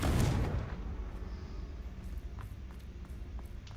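A booming fire-blast spell from Hogwarts Legacy hits hard at the start, then fades into a low rumble with faint crackling scattered through the quiet that follows.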